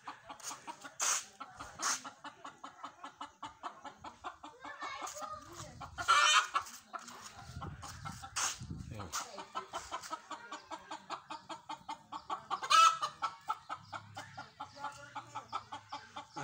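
A hen clucking steadily while brooding on a neighbour's roof: a close rhythmic run of soft clucks with occasional louder squawks, and voices talking quietly in the background.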